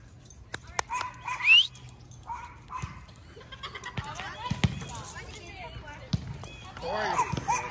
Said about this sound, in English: Cinnamon, quit barking.